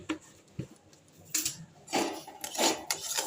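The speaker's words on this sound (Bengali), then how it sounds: "ভালো করে এইভাবে নেড়ে নিতে হবে।" A spoon scrapes and knocks against a kadai while mango paste is stirred with sugar. Irregular clinks and rasping strokes come in bursts that grow busier toward the end, close and fairly quiet, with no voices.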